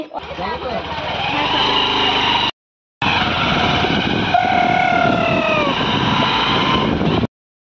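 Motorbike engine droning steadily on a road, loud and close, with a brief cut-out partway through and a rising whine near the end.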